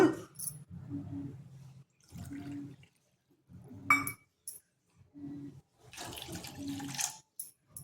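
Water is poured from a cup into a bowl of ragi flour and curd in several short separate pours with brief clinks between them, close and fairly quiet, with no talking.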